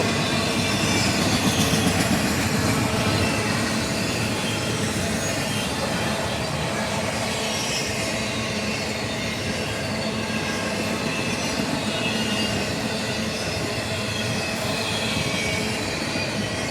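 A freight train with a DPU locomotive rolls past at Folkston, Georgia, a loud, continuous rumble of wagons with wheel squeal and rail clatter that holds steady throughout.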